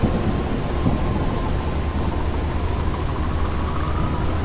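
A downpour hisses without letup in Endless Suburbia, with low rolling thunder grumbling beneath the steady, loud wash of rain throughout.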